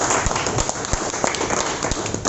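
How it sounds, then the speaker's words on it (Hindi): An audience at a seminar in Lucknow claps for a speaker, a dense, steady patter of many hands lasting a couple of seconds without pause. "मैं सर के लिए एक जोरदार तालियां चाहूँगा"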